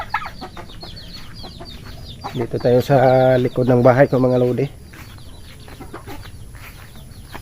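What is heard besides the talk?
pet chickens clucking behind the house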